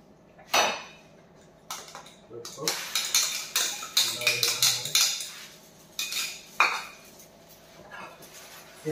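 A spoon mixes food in a pan, clanking and scraping against the metal in bursts of quick, close knocks separated by short pauses.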